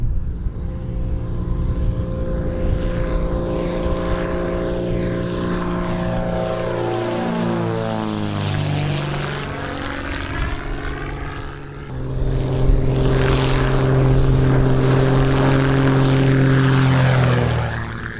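A small propeller plane taking off, its engine droning loudly, pitch sweeping as it moves past, then revving up strongly toward the end amid wind noise.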